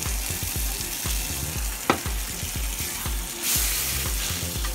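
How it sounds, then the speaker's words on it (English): Pork chops frying in hot oil in a pan, a steady close sizzle punctuated by bursts of crackling and spattering, with one sharp clack near the middle. "the hot oil is going right through the meat"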